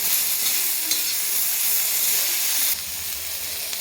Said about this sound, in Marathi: तेलामध्ये परतून घ्यायचं थोडंसं तेलाची आणखी धार सोडायची म्हणजे लगेच भाजलं जातं